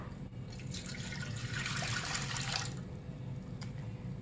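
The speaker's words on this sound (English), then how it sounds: "So I'm going to go ahead and pour this milk right on in" Milk poured into a bread machine pan for milk and honey bread, a soft steady liquid stream that swells in the middle and then tapers off, faint and close with no talking.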